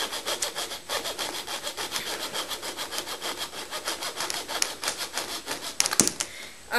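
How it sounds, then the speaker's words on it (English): A handsaw cuts through wood while making a hoop, in close, steady back-and-forth rasping strokes with a regular rhythm that ends in a few sharper clacks. "Something to think about while you're sawing is that as you go deeper, if you bend it this way, it's going to like trap the blade inside."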